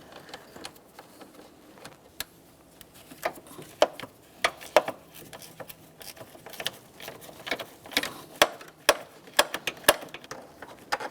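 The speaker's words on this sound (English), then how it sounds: "Use my ratcheting wrench." Ratcheting wrench backing out a 10mm bolt holding the coolant reservoir on a 2012-2015 Honda Civic 1.8L, a series of quiet irregular clicking ticks growing busier toward the end, close and alone.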